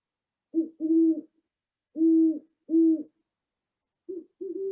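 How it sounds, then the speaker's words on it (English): A great horned owl hoots at dusk in clear, deep, close calls, a short note followed by a longer one, repeated in three paired bursts against silence. "Great horned owl."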